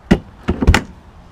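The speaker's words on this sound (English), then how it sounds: "it's got a nice thick door to it" A heavy, thick door on a 2025 Grand Design Imagine 3210BH travel trailer handled close by: a solid thunk followed by a couple of thudding knocks in quick succession, short and loud.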